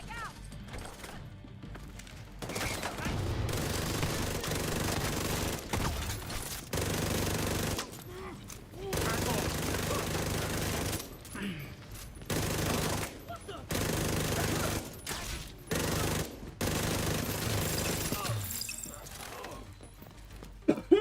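Rapid bursts of automated turret gunfire in The Division 2, loud repeated volleys with short pauses between them, with a voice occasionally talking over the shooting.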